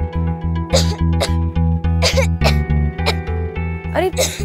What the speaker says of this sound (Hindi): अरे इसे तो बहुत ज्यादा खांसी हो रही है।